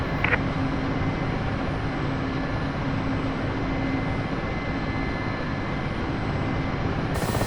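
The twin turbine engines of a Mi-8MTV2 helicopter idle on the ground in the DCS flight simulator after landing. They give off a steady, loud, continuous engine drone with a faint high whine and no talk.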